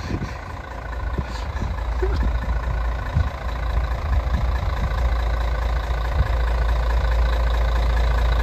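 A yellow bus engine idles at a stop in Ustka, Poland, a steady low diesel rumble with faint clunks and background bustle throughout.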